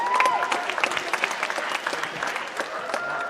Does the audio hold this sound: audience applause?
yes